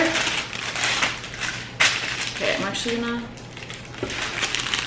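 Parchment paper crinkling and crushing while lining a cake pan for a Swedish chocolate sheet cake, with bursts of close, sharp rustling that come and go as a person talks over it.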